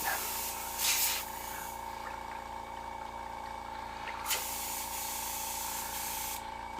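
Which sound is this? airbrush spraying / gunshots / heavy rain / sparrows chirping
airbrush spraying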